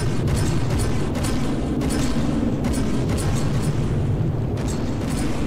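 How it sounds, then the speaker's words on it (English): Ship guns and explosions in the naval combat game From The Depths, a steady dense barrage of booms and mechanical clatter running continuously at moderate loudness with no talk. "This side is ready and they are also firing now."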